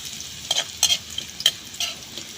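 Garlic and chili sauté in a pan with scattered sizzling bursts and a few sharp stirring scrapes, close and fairly loud over a quiet background.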